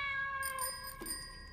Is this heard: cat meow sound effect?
yes